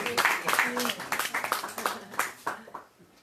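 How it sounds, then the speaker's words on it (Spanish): Audience applause at a talk, a run of dense claps swelling and fading over a few seconds, with a voice speaking underneath. "es para aplaudir"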